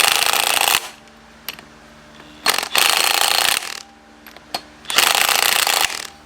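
An impact gun fires in three loud, close bursts of about a second each, separated by short pauses, with a harsh rattling buzz during each run.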